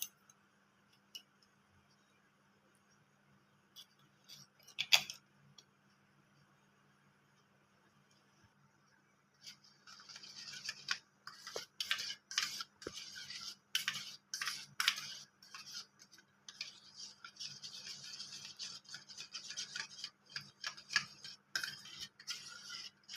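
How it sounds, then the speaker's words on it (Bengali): A spoon stirs powdered milk into milk in a pot, making faint intermittent clinks that become a steady run of light metallic taps and scrapes over a low hum. "এই চামচে 2 চামচ গুঁড়ো দুধটা আমি এবার দুধের মধ্যে দিয়ে গুলে নেব।"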